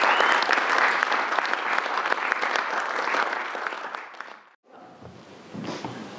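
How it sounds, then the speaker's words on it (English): An audience at a small startup pitch event applauding, dense steady clapping for about four seconds that fades out, followed by quieter room sounds and a voice beginning to speak. "let's give these guys a round of applause"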